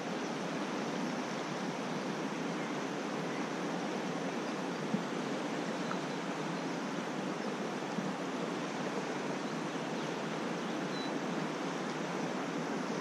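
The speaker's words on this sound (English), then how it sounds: "It's a beautiful waterfall." Rushing river water at a waterfall along the Dzoraget river, a steady broadband roar that stays constant and close throughout without any talk.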